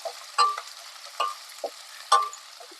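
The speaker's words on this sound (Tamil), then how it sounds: "நம்ம கட் பண்ணி வச்சிருக்கிற சின்ன வெங்காயத்தை இதில் சேர்த்துக்கலாம்." Small onions (shallots) frying in hot oil, stirred in short bursts: three or four brief scraping sizzles with quiet gaps between them, close and with no talking.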